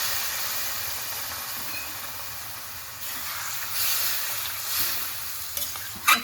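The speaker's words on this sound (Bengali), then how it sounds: "এখন আমি এখানে অল্প পরিমাণে একটু জল দিয়ে দিচ্ছি।" Papaya curry bubbling and sizzling in a pan as a little water goes in, a steady soft hiss with a few louder splashy bursts toward the end; no talking.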